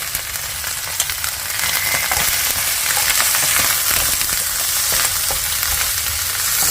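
Ginger with cumin and coriander powder frying in hot oil, a loud, steady sizzle with stirring scrapes, close up and without talk.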